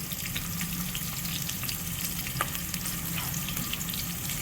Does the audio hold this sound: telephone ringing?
no